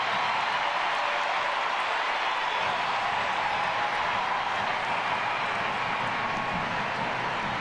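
A stadium crowd at an NWSL semifinal between Portland Thorns FC and Western New York Flash keeps up a steady, loud, broadband roar from start to finish, with no distinct voices breaking through.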